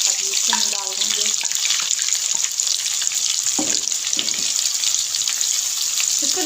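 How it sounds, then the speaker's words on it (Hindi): Finely chopped large onion fries in hot oil in a kadai. A loud, steady sizzle fills the whole stretch, with a few short spoken words over it. "ऑयल हमारा गर्म हो गया है, एक बड़े साइज़ की प्याज में डाल"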